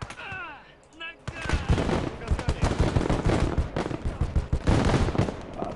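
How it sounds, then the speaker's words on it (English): Flak guns firing in the Operation Uranus combat game, rapid continuous bursts of heavy gunfire and explosions that begin abruptly and keep going loud and dense, with a brief quieter stretch at the start. "Oh, those flat guns are just murderous."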